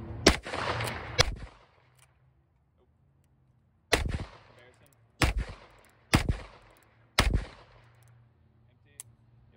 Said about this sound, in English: So I'm gonna fire 6 rounds, reload 6 more I got down here, and then I'm gonna fan it